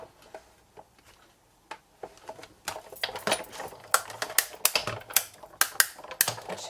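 A Stampin' Up Big Shot die-cutting machine with its cutting plate, cranked by hand, giving sparse clicks that build into a quicker run of sharp ratcheting clacks, close and fairly loud with no talking.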